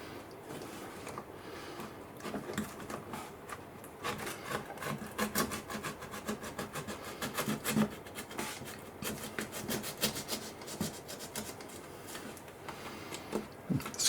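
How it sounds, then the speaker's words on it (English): A blade scrapes repeatedly across a model railway concrete wall, a close, dry rasping in quick uneven strokes that continue almost without pause. "let's scrape it up from the bottom"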